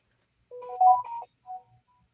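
A phone rings briefly indoors, giving a short burst of electronic ringtone tones and a fainter single tone after a pause, with no talking.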